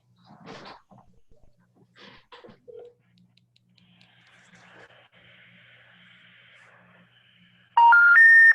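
A phone call placed from a real estate sales meeting brings a few faint scattered sounds, then a loud burst of telephone dialing tones near the end.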